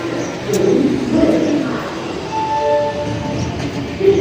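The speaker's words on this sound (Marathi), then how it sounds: "आम्ही आलो आहे रेल्वे स्टेशनमध्ये अमरावतीच्या रेल्वे स्टेशनमध्ये हो बडनेराच्या रेल्वे स्टेशनमध्ये" Ambience at Badnera railway station in Amravati: a steady rumble of a train, pigeons cooing close by and a few brief tonal squeals, with no talk heard.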